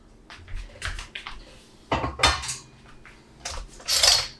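A crinkle cutter slices down through a bar of homemade kitchen soap, giving a few close, sharp scraping and clinking strokes in bursts, ending with a brighter metallic rasp.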